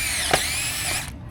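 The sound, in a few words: power drill drilling pilot holes for pool fence screws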